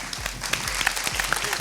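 An audience at a Malayalam television show breaks into dense, continuous applause, with many overlapping claps close by and some faint voices underneath.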